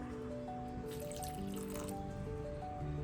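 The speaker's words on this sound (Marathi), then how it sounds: "सर्वात अगोदर मी झाडांना पाणी ओतते." Water poured onto a tulsi plant while watering plants, a faint trickling and dripping splash over a soft background of tonal hum, quiet and close.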